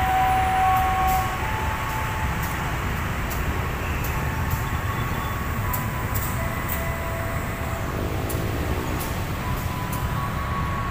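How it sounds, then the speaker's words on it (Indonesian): A vintage locomotive stands at Pasar Senen station in Jakarta preparing to depart, giving a steady low rumble with periodic clicks and a faint tone early on. "kereta lokomotif vintage-nya akan segera berangkat"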